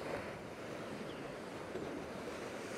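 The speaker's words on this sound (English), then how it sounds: "I need to be looking to my left to see where these waves are coming in from." Ocean surf rolls in on a shoreline as a continuous broad wash of breaking waves, steady and fairly distant, with some wind buffeting and no voices.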